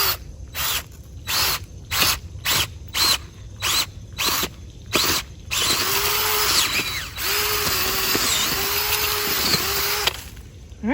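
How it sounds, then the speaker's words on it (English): A cordless drill drives a planter auger into hard clay garden soil, first in about a dozen short whirring bursts, then in one long steady grinding run with rising strain before it stops. "So I put the drill into forward position"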